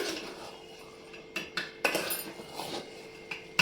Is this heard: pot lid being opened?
yes